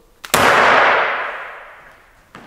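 A carnival confetti shooter fires colorful feathers with a single sharp, loud pop followed by a long hissing burst that decays over about two seconds, then a faint click.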